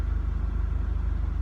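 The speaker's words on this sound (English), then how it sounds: "I started the engine up, and the absolute first thing I noticed, the engine is smoother. It idles smoother." Subaru WRX engine idling smoothly after an ECU reset, a low, even pulsing rumble with a steady rhythmic beat, close and continuous.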